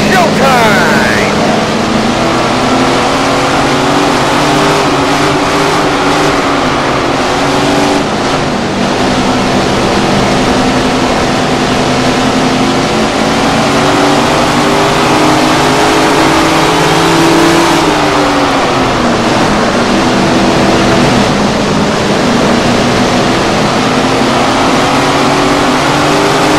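Sprint car engines roaring at the start of a race in the Tony Stewart Sprint Car Racing game, a loud, continuous drone of several engines revving and rising in pitch, with no one speaking over it.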